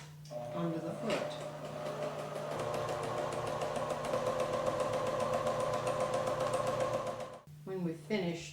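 A sewing machine stitches pieced quilt fabric in a steady, close, whirring run lasting several seconds, with someone talking briefly before and after it.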